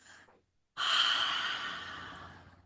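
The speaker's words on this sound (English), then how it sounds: "It's an audible breath and you're literally breathing onto your knee" A long, forceful exhale through the mouth, breathy and close, rising suddenly after a short quiet breath and fading slowly over about two seconds.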